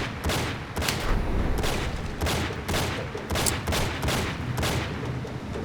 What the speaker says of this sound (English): killing the first two guys with the SS shotgun